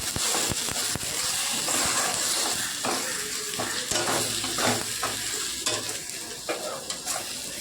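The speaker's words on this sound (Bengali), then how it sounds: "এটা দিয়েও ভালো করে আবারও ভাজা ভাজা করে নিতে হবে।" Tomato paste fries in a pan for steamed egg curry, a steady loud sizzle with repeated stirring scrapes throughout.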